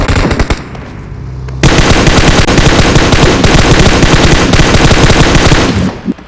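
Rapid automatic gunfire in a PUBG Mobile squad fight, a loud, dense stream of shots that starts after a few scattered reports and runs without a break until it cuts off near the end, with no talking.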